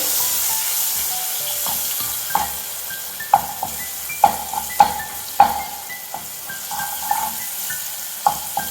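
Okra frying in a pan with curry leaves, a soft continuous sizzle broken by sharp spatula clacks against the metal pan as it is stirred, several louder scrapes in an irregular rhythm, close up with no talking.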